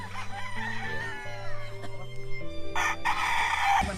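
Boston gamefowl stag crowing near a gamefarm incubator: a drawn-out, close cock-a-doodle-doo with stepped pitch changes, ending in a louder raspy burst as other fowl call faintly.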